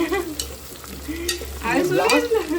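Soya biryani masala sautéing in a pan: a continuous frying sizzle with intermittent stirring scrapes, close, while someone talks over it.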